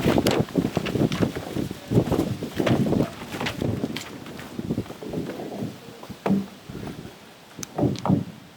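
Wind gusts buffet the microphone at an outdoor Veterans Day ceremony, coming as loud, uneven rumbling bursts that swell and drop, with a few brief knocks between them.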